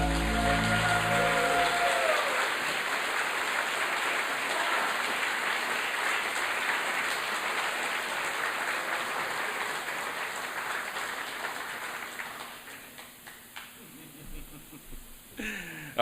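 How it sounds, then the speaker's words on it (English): Audience applause greets Sam Malone as a 2017 Texas Radio Hall of Fame inductee: a dense, steady wash of clapping that holds for several seconds after a brief voice at the start, then thins and fades away near the end. "Give a round of applause to Sam Malone, a 2017 inductee of the Texas Radio Hall of Fame."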